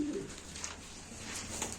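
Tumbler pigeons at a live pigeon auction in Turkey coo softly in a quiet room, a few faint, low, throaty calls spread over a short moment with no talk.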